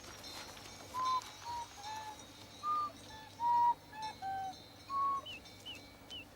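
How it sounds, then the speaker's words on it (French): Several birds call and whistle in short, clear notes, scattered at an irregular pace over a quiet background. "Son attention avait été attirée par des cris d'oiseaux."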